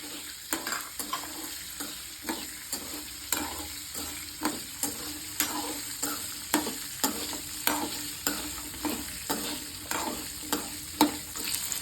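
Coriander, garlic, small onions and green chili sautéing in oil in a pan for coriander thogayal, with a steady close sizzle and regular scraping stir strokes of a spatula repeating throughout.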